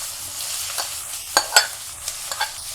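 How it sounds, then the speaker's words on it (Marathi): Grated fresh coconut stir-fried in hot ghee in a kadai, a soft steady sizzle broken by a few sharp spatula scrapes and clinks against the pan, close up with no talk. "तुपावरती खोबरं चांगलं परतून घ्यायचं"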